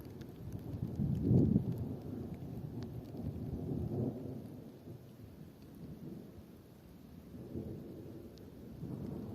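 Low rolling thunder from an approaching storm over open countryside, distant and fairly quiet, rumbling in several swells with no voices.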